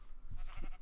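A sheep in the Minecraft video game gives a short bleat, a quick wavering game sound that is faint and brief, with no talk over it.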